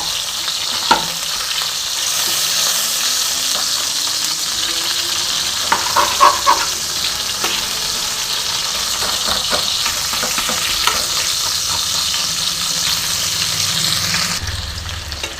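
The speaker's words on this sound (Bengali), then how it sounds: "এবার দেখো মাছের মাথাটা আমি আস্তে আস্তে ভেঙে দেবো, খুন্তি দিয়ে দিয়ে আমি ভেঙে দেবো" A fish head fries in hot oil for a fish-head and malabar spinach dish, giving a steady, close sizzle with occasional scrapes and taps as a spatula breaks it apart in the pan.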